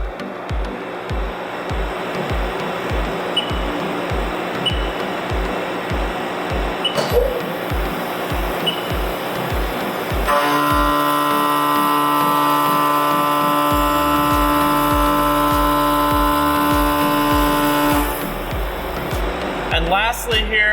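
High speed CNC machining pass at 4,400 RPM with a 15% radial step over, a steady loud whine and pulsing machine drone that shifts to a sustained tonal hum midway, no talk.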